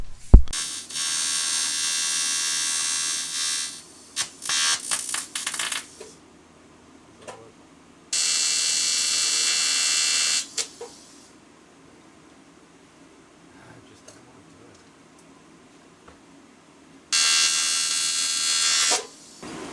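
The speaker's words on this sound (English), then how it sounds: "let's get into welding this" Aluminum being welded for a Cummins engine swap, with three bursts of steady electric buzzing and crackling of several seconds each, separated by quieter pauses with faint clicks and handling noise.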